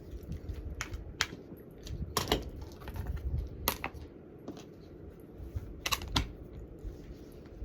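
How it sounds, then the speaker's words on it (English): Scissors trimming the edges of sewn, pressed fabric during a flower craft project, a few sharp snips and clicks scattered over a faint rustling background with no talking. "And we're gonna trim it."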